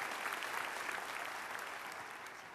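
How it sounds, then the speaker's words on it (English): A crowd at an annual outdoor barbecue event applauds steadily for a senator, a continuous wash of clapping that holds level for the brief moment. "Let's give your Senator Jack another great round of applause for what he does for us"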